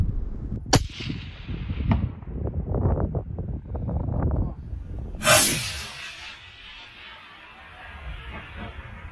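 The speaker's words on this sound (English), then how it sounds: "Let's see if you can take the shot." A single sharp, loud rifle shot fired at an eland bull some 280 meters off, with a long rolling echo trailing away afterward; quiet voices can be heard talking just before the shot.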